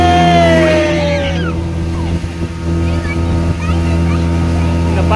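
Motorboat ride on the reservoir at Malampuzha dam, Kerala: a steady loud engine drone with strong low harmonics runs throughout, with voices talking over it.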